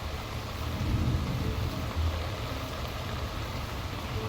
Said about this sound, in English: It's always raining.